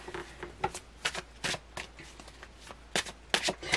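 Tarot cards being shuffled close up, in quick riffling bursts and soft slaps with brief pauses between handfuls, alone with no talk.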